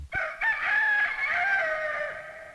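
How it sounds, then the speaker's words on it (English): A single long rooster crow rings out clearly and close, rising and holding before trailing off, with no other sounds around it. "A rooster began to crow."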